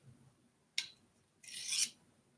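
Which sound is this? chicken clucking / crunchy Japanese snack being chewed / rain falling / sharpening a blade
sharpening a blade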